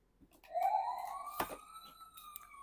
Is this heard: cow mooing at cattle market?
no